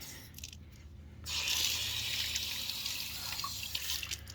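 Water gushes steadily from a newly fitted outdoor garden tap beside a garage, starting after a brief quiet moment and then running loud and continuous, with a hissing splash and no voices.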